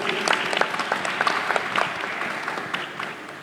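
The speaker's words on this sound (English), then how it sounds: "give a round of applause to our panelists here" Applause rises from an audience at a panel event, a busy patter of many hands clapping with a few sharper claps standing out, tapering gently toward the end.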